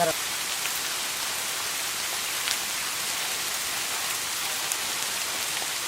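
Steady rain falls heavily and continuously in rural Bangladesh on a trek between Jaflong and Bichanakandi, a dense even hiss of drops with a few louder patters, no voices.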